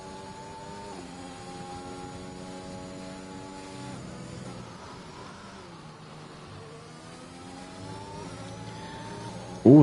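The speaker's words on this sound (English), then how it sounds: "the car's out on track at this moment" Race car engine droning and shifting pitch on the Bahrain circuit in a racing video game, a thin steady whine rising and falling under faint commentary.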